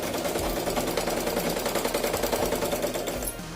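A domestic sewing machine running steadily while stitching in reverse, a continuous close, loud mechanical whir with a rapid, even needle clatter, alone with no voices.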